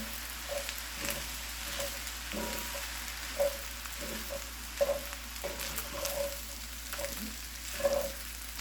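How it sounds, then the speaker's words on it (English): Chicken fried rice sizzles in a hot cast iron pan while a utensil stirs and scrapes at an irregular rhythm, close up, with no talking. "I'm gonna stir it."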